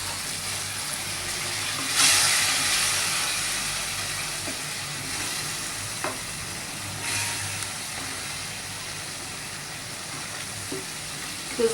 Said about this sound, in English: cook this gravy till you see the oil on the side